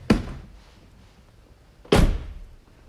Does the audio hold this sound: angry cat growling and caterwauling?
no